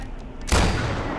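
A single loud, booming shotgun blast in the video game Far Cry 4 hits suddenly after a moment of quieter game sound and rings out briefly.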